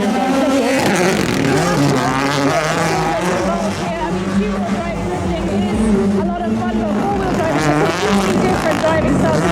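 A drift car's engine screams and revs continuously at a Red Bull drifting event at Spike Island, Ireland, loud and sustained with shifting pitch as the car slides, while a commentator talks over it throughout.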